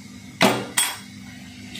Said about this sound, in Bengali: এই ঢাকনাটা খুলে নিচ্ছি।